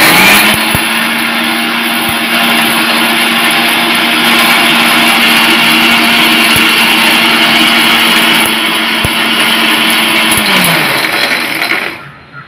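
A mixer grinder runs steadily, loud and close, grinding raw mango chutney ingredients with a continuous motor whine for about eleven seconds before it winds down and stops, with no talking.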